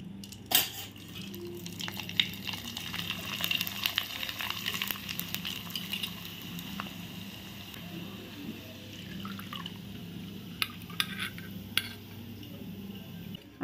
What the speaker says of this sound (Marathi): अशा प्रकारे ही गाळणी मी तेलात ठेवून असा हा किस तळून घेणार आहे